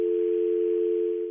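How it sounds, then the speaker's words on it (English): A steady telephone dial tone on a phone line, a continuous unbroken hum held at constant loudness throughout, alone with no talking. "So Mike Finnerty, the CBC Montreal host, gets the dial tone."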